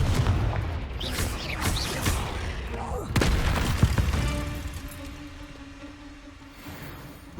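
A Confringo fire spell explodes in Hogwarts Legacy gameplay: a cluster of booming blasts and thuds early on, then a sharper impact near the middle, fading into a lingering tonal hum, with a voice speaking over parts of it.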